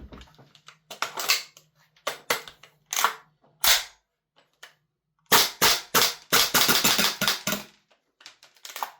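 A gas airsoft MCX rifle fed from a Strike Industries magazine fires sharp, close cracking shots, singles and short rapid strings, with the shots weakening and petering out as the gas runs low.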